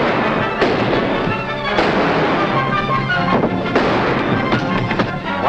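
Rapid gunfire from a 1945 western shootout, loud and dense, with sharp cracks stacked one after another and reverberant bangs filling the whole stretch.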